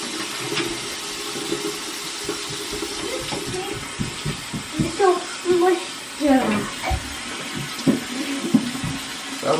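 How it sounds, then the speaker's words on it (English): A household tap runs continuously while someone waits for the water to turn hot before washing a child's face, a steady hiss of flowing water with clatter and splashes in the sink partway through. "I'm trying to wait till the water gets like hot."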